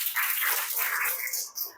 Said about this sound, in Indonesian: Oke ya, tepuk tangan ya